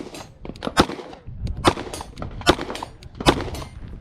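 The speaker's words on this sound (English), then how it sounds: "I will shoot the Glock first" Glock pistol shots fired with an Aimpoint sight at an outdoor range: five sharp, loud reports spaced roughly evenly, with smaller clanks and range noise between them and no talking.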